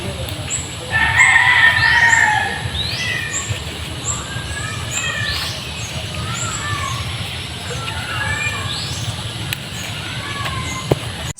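Roosters crow and chickens cluck in a countryside backyard garden, several overlapping calls at middle distance over a steady outdoor background hum.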